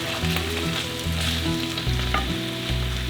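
Roasted tomatoes go into a pan of sizzling onion and garlic, giving a steady, close frying hiss with soft stirring scrapes and a low tonal backdrop underneath.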